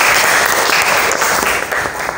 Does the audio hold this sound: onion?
no